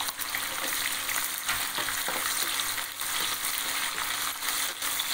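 Onion sizzles steadily in hot oil in a pan while potato rice is being made, a continuous crackling fry with occasional stirring scrapes and no talking.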